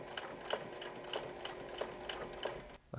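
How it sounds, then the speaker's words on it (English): A sewing machine sews a zigzag stitch on a pair of joggers, a quiet steady mechanical whir with regular ticking pulses about every two-thirds of a second, stopping near the end. "I am gonna add a little bit of a zigzag stitch."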